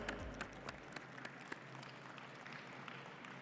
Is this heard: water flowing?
no